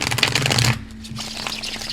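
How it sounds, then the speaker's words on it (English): A tarot card deck riffled in quick, crisp bursts, close and fairly loud, with a brief pause before the flapping resumes. "it's my favorite deck because it's for rapid shufflers like myself"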